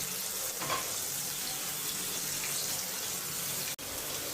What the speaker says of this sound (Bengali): এই চুলায় কাঁকরোল ভাজা দিছি